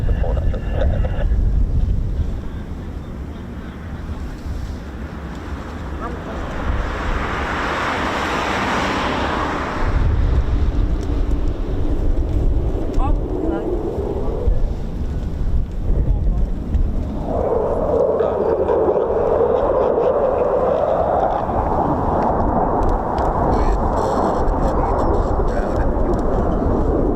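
A USAF military aircraft departing RAF Mildenhall, a loud, broad jet roar that swells, fades and then returns strongly, heard from a distance with wind buffeting the microphone and a voice speaking at points.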